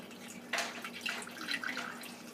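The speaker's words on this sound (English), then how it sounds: "I'm just going to use the strainer again as I'm pouring it through the funnel." Homemade almond milk poured through a strainer and funnel, a soft trickling and splashing stream lasting a couple of seconds, close and fairly quiet.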